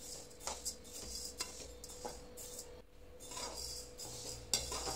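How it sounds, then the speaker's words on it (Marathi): Jowar (sorghum) grains dry-roasting in a pan for thalipeeth bhajani, heard as soft, faint scraping and light clinks of a spoon against the pan, repeated at an uneven pace with no voice. "ज्वारी व्यवस्थित भाजून घेऊया."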